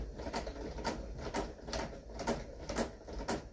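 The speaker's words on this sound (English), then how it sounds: "put my sewing machine on a decorative stitch function" Sewing machine running a decorative stitch on home-decor fabric, a steady mechanical chatter of repeated stitch cycles with regular rhythmic bursts, close and moderately loud with no talking.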